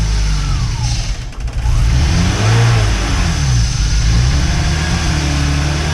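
A BMW 325i E36 straight-six engine runs loud and close, holding a steady, deep idle and then revving briefly, with no voices over it.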